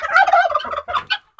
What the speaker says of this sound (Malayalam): ടർക്കിക്കുട്ടൻ